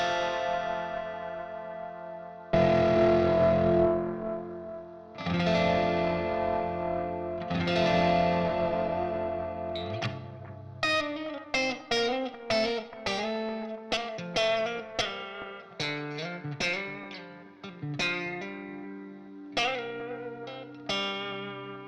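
Electric guitar played through a Tone Sovereign pedal with a compressor on a Line 6 HX Stomp in a low-gain setting: three long sustained chords ring out, then a run of quick plucked notes and short chord stabs, clear and even.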